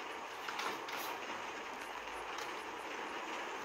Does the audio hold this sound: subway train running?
yes